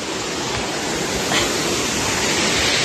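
Cascade de Farino's waterfall roars with a loud, steady broadband rush of falling water, close by and unbroken throughout, with no voices.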